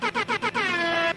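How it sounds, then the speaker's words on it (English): An air horn sound effect blasts in four quick rhythmic bursts followed by one longer sustained blare, loud and close, with no talking over it. "I feel like I made it when you get the air horns"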